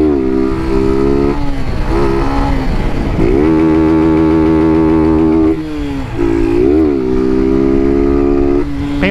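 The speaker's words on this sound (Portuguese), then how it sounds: "Pensa numa moto leve, rapaziada." A light, customized motorcycle revs hard and accelerates through the gears. The loud, close engine whine climbs in pitch, drops briefly at each shift, then rises again several times.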